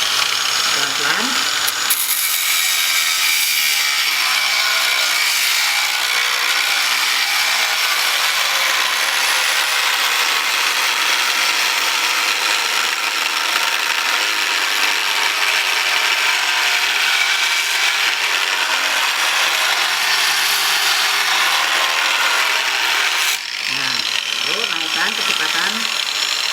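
A power tool set to its lowest variable speed cuts through pipe with a continuous grinding, rasping whir, loud and steady for the whole stretch, with brief pauses near the start and end.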